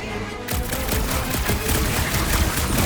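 Continuous heavy gunfire rips through combat in Marvel's Guardians of the Galaxy on PlayStation 5, a dense loud barrage that begins abruptly after a brief lull and keeps pounding steadily.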